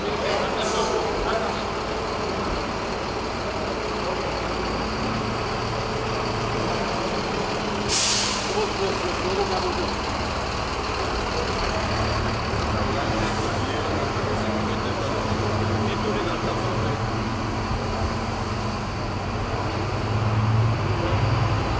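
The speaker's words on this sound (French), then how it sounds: "un tour dans un des bus Transco montés dans cette usine" A Transco bus assembled in a factory in the DRC drives along, its steady engine rumble and road noise running throughout, with one sharp hiss of the air brakes partway through and talking heard under the noise.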